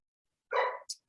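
A dog gives one short sharp bark followed by a quick higher yip, close and clear against an otherwise silent background.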